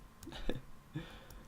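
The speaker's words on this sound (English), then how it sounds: "Sorry, I've got the hiccups, that's why I'm pausing at random times." Two small involuntary hiccups from a person, close to the mic and about half a second apart, each a short throaty gulp with a voiced catch, faint room noise around them and no words.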